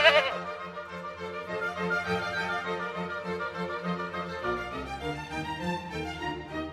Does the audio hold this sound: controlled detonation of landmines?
no